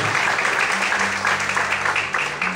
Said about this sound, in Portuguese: Desocupe a mão, aplauda o Senhor, dizendo glória a Deus, aleluia.